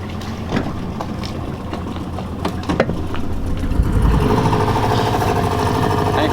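A dinghy's outboard engine idles at low throttle while the boat is held pressed against a dock, giving a steady low rumble that swells slightly louder partway through, with light knocks and water sounds close by.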